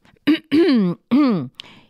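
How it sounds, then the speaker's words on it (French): A voice clears its throat in a few short, voiced rasping bursts, close and distinct, ending with a soft breathy puff. "Il se racle la gorge parce que sa grande sœur ne le remarque même pas."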